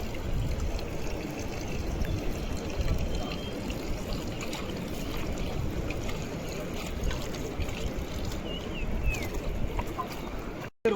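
Water pours and splashes continuously while chicken is washed for a seaside biryani, a close, ongoing trickling gush over a low background rumble that cuts off abruptly at the end.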